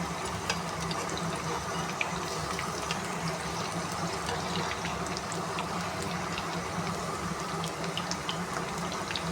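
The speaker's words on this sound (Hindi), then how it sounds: "अब इसको हल्की आंच पे डीप ज़रा फ्राई करना है" Potato lachha pakoras deep frying in oil over low heat, a steady dense sizzle and bubbling with faint crackles throughout, close and even, with no talking.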